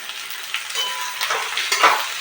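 Sliced okra and onion frying together in a pan for a tiffin-style bhaji, giving a steady close sizzle with light stirring scrapes and crackles throughout.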